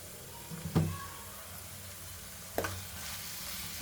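Chili powder is stirred into a tomato masala for an egg masala curry, with a soft steady sizzle broken by two distinct spoon scrapes against the pan about two seconds apart.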